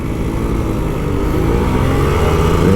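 A Kawasaki Ninja RR 150 two-stroke motorcycle engine droning loud and close, its pitch rising gradually as it revs harder, with no voices over it.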